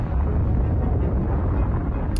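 A loud, sustained explosive rumble fills the clip, deep and roaring without a break, like a distant blast rolling on.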